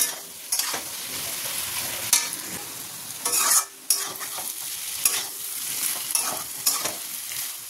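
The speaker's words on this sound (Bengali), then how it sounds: "পোস্ত একদম রেডি হয়ে গেছে, সুন্দর ভাজা ভাজা শুকনো শুকনো পোস্ত" Poppy seeds (posto) dry-frying in a pan, stirred with a spatula: steady scraping and rustling with repeated sharp clatters, close and fairly loud, no talking.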